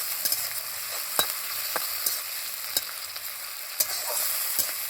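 Chopped tomato, ginger-garlic paste and green chili sizzle in a pan while a spatula stirs them, with soft steady frying hiss punctuated by a few sharp scraping clicks, close and fairly quiet with no talk.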